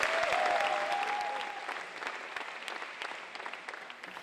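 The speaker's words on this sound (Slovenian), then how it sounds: "Prosim za en velik aplavz." Concert audience applause for a big band show, a burst of clapping that starts full and tapers off over a few seconds, heard alone without talk.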